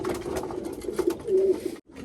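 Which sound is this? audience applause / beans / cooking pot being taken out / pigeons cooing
pigeons cooing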